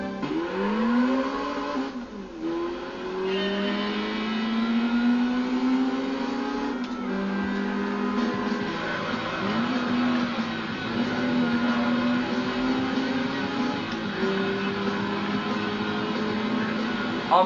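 A Honda Civic races down the home straight in Gran Turismo 3, its engine whining and climbing steadily through the gears in rising and falling sweeps, with a brief shift dip, constant and alone.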